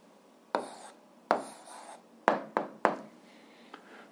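Pen strokes on paper as an algebra answer is written down, several separate scratchy bursts with short pauses between them, close and fairly quiet with no voice.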